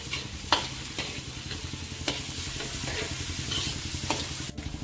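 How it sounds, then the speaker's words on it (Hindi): Onions fry in hot oil in a pan, giving a steady crackling sizzle with occasional stirring scrapes, close and moderately quiet, with no talk. "अब इसमें सबसे पहले प्याज डालकर इसे 2 मिनट तक हल्का ब्राउन होने तक भूनेंगे।"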